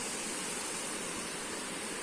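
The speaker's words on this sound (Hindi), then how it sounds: "if you hear carefully, you'll hear a sound. The sound is coming from the waterfall." A waterfall near a Garo village in Bongaigaon, Assam, gives a steady, dense rushing roar that fills the whole clip without pause and with no voices over it.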